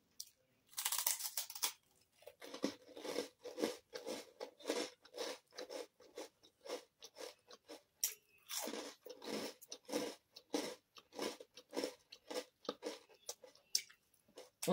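Crunchy food chewed at a dinner meal, close and loud, with steady repeated bites and crunches forming a regular rhythm throughout, with no talking.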